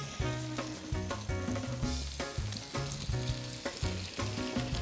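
Two pieces of fish sizzle and fry loudly in a hot pan, a steady crackling hiss with bursts of spattering and occasional stirring or scraping, close by and with no talk over it.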